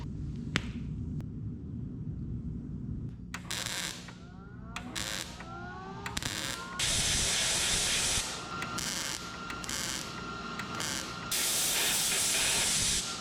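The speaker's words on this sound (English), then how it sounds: "Now it's grind time." An angle grinder works over the welds on a 1973 Chevy truck bed during a long-bed to short-bed conversion, giving loud, harsh hissing bursts that start and stop several times.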